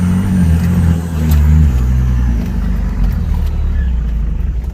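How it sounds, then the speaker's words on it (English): Nissan GQ Patrol engine revving in high range while driving in sand, a loud, steady low rumble of the motor throughout that shifts pitch partway, close up with no talk. "I'm just going to give it a bit of a rev out"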